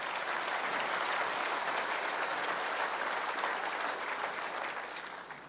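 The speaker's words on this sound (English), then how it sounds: "please give him a round of applause as well" Sustained audience applause for the MC at the State of the Province 2018 address, a dense steady wash of clapping from a large crowd that holds throughout and starts to fade near the end.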